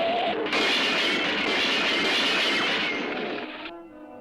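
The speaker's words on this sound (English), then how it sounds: "here comes the train" A cartoon train rushes along the tracks, a loud, dense rumble and clatter that bursts in and holds steady for several seconds before fading as it passes, with no voices.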